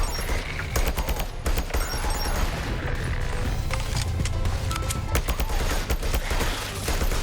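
Rapid turret gunfire and explosions in the sci-fi defense game Sentry (demo), a dense, continuous barrage of loud shots and booms that runs without a break throughout.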